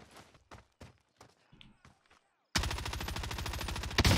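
Rapid automatic gunfire from Call of Duty Cold War Warzone erupts after a quiet stretch of scattered footsteps and small sounds, a loud, sustained, evenly spaced burst of shots lasting over a second.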